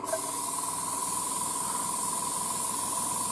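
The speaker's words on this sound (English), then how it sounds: "So I will change my airbrush." Airbrush spraying paint onto a 1:35 scale Takom Type-69-II tank model, an Infinity airbrush fitted with a 0.4 needle, giving a steady, close, continuous hiss that holds evenly throughout without pauses.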